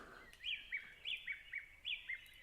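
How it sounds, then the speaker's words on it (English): Outdoors, a bird repeats bright, whistled chirping phrases in a steady rhythm, fairly close and clear above a quiet background, with no talking. "Thank you for the birds."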